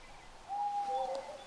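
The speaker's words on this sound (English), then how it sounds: "Hear an owl over to the right." An owl hoots once in a quiet forest in theHunter: Call of the Wild, a clear, steady call of about three-quarters of a second, off to one side over soft ambient background.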